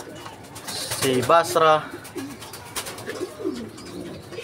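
Racing pigeons coo softly in a loft, with a couple of short throaty coos standing out while someone talks over them in a quiet indoor setting.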